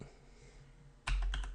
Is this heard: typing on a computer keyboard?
yes